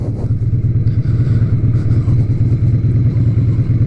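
A Harley-Davidson Sportster motorcycle rumbles steadily as it is ridden, its loud low engine drone continuous and close throughout with no pauses.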